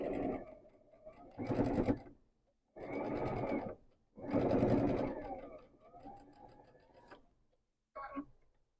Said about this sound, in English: we are going to sew that 1/4 inch seam